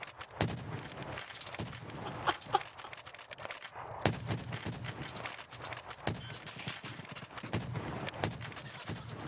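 Gunfire in the shooter game Escape from Tarkov, heard as scattered sharp shots and short bursts spread across the clip over a busy, fairly quiet background.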